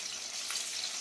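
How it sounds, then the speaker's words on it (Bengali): Green chilli frying in ghee in a wok makes a soft, continuous, bright sizzle that stays even and fairly faint throughout. "এই কাঁচা লঙ্কাটা একটু দিয়ে দেবো, ফাটিয়ে একটু ভাজি করে এর সাথে মাখবো"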